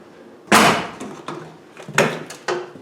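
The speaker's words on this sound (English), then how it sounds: "shut the back door" The back door of an older Land Rover Defender shuts with a sharp slam, followed by a few lighter knocks and thuds nearby.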